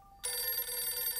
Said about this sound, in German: das ist doch ein Telefon